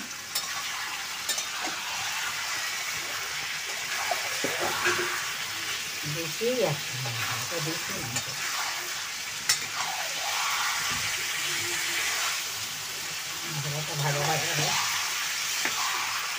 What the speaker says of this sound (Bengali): পেঁয়াজ লাল লাল করে ভাজার পর এখন মাটন দিয়ে দিয়েছে, ওটা এখন কষাবে